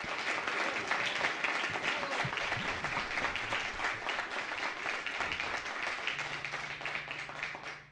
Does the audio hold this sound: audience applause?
yes